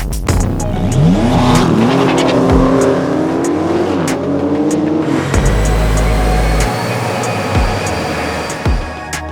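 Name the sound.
Porsche 992 911 4S engine revving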